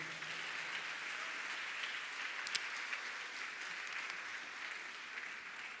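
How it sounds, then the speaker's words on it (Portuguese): A church congregation applauds the Lord in a continuous, fairly quiet wash of clapping that holds evenly from start to finish, with no one speaking over it. "Você pode aplaudir ao Senhor"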